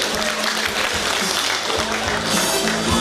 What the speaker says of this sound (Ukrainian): сідайте на місце під бухливі оплески наших глядачів